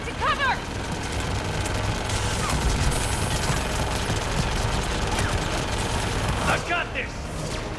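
Sustained gunfire in a Mass Effect firefight, with rapid overlapping shots and mechanical clatter forming a loud, dense barrage, while voices shout now and then over the din.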